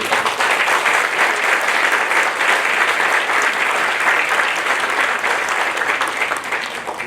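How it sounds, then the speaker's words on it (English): Loud, sustained applause from a crowd gathered at a ribbon cutting ceremony, many hands clapping in a thick continuous roar that stays strong throughout and eases off slightly at the very end. "And I think Chris Kelly, our marketing team, deserves an enormous round of applause for putting this all together today."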